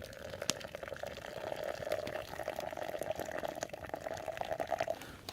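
At a bushcraft campsite, water is poured through a strainer, making a soft, continuous trickling pour that lasts several seconds at low volume.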